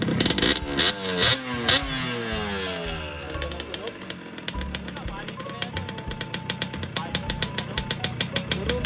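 A Yamaha RXT135 motorcycle engine revs repeatedly through its exhaust pipe, rising and falling in pitch, with a rapid ticking idle between blips and some voices nearby.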